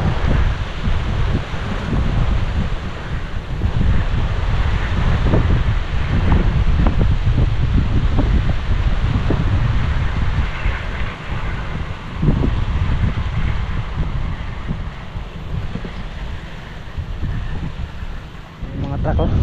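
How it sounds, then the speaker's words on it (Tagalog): Strong wind buffets the microphone outdoors under a blazing sun at a roadside site where a fence is built by hand, a steady loud roar with gusts throughout and no clear speech. "mahangin."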